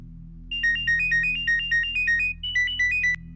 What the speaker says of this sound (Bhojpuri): फोन काहे ना उठा रहल बा?